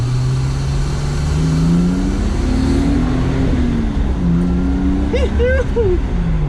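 Datsun 280Z pulling away from a traffic light, its engine revving up with a rising, strained pitch that eases between gears. The sound is close and loud from inside the car, with a voice briefly present.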